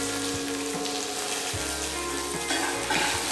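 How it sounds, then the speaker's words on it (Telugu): Ingredients for ponganalu, a South Indian dish, fry in a pan with a steady close sizzle, with a few soft stirring knocks and scrapes mixed in and no talking. "ముందుగా మనం ఈ పదార్థాలన్నిటినీ వేయించుకోవాలి"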